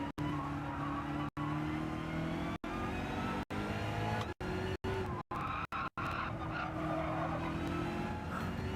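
Race car tyres on cold rubber squeal and skid in Gran Turismo 7, a steady engine drone with a continuous tyre screech running throughout, loud and close.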